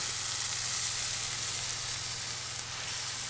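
Steak sizzles steadily in a hot pan right after being flipped, a continuous close frying hiss with no talking.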